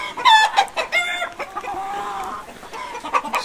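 Newly arrived Livorno hens cluck and a rooster calls in a farmyard, with several overlapping close, busy clucks and a short crow among other chickens.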